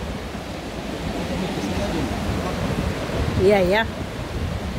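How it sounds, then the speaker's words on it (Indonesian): A fast-flowing river rushes beneath a suspension bridge in a steady, broad roar of water that fills the whole stretch, with a short spoken exclamation rising briefly over it near the end. "Jadi ada sungai juga di bawah yang cukup deras ya."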